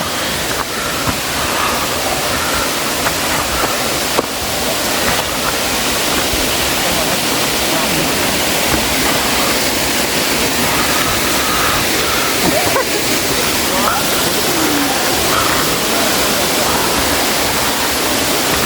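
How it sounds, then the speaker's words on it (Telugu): Katika waterfall roaring as a steady, dense wash of rushing water close by, constant and loud for the whole stretch with no breaks. "మొత్తానికి మనం కటిక వాటర్ ఫాల్ దగ్గర వచ్చాం"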